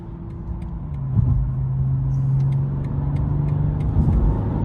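A 2022 BMW M240i engine hums steadily and builds in a low, smooth acceleration, loud and close, with a deep rumble rising slightly before settling.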